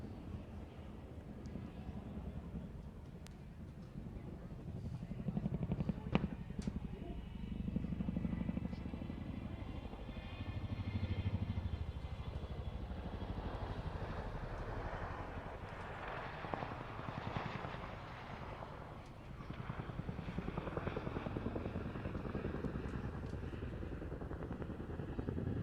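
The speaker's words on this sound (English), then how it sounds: "Charlie's now raising himself up into a pedal turn where he's going to spin the aircraft" At the RAF Waddington Airshow, an aircraft spins in a pedal turn, its tail swinging around the nose. A distant, fluctuating engine drone swells and fades against wind and open-air ambience.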